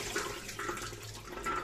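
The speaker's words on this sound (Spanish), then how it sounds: "vamos a lavar un poquito los garbanzos" Tap water running steadily while chickpeas are rinsed in a kitchen, a close, continuous splashing flow with no voices.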